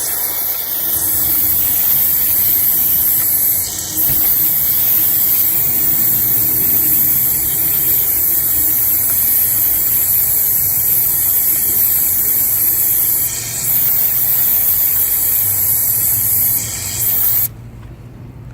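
Aerosol lubricant sprayed onto a motorcycle chain in a long, close, loud continuous hiss with a couple of brief pauses, then cutting off near the end.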